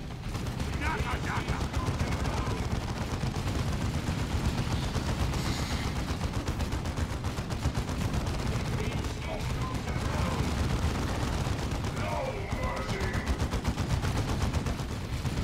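Battle sounds from the Dawn of War II video game: dense, continuous gunfire and heavy artillery blasts roar nonstop at full loudness, with unit voice lines mixed into the din.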